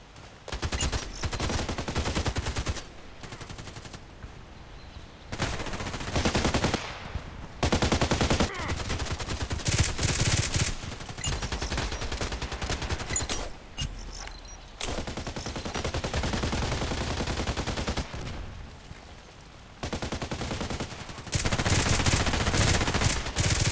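Repeated pistol gunshots ring out in a sniper video game, loud sharp bursts spread across the clip with brief pauses between volleys and a dense, sustained firing texture.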